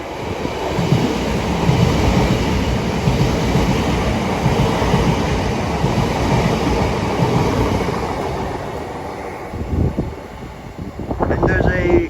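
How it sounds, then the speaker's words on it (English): An express train passes through St Helens Junction station with a loud sustained rumble and rattle of wheels on track that fades toward the end, close by, and a horn sounds near the finish. "there's a express train going past"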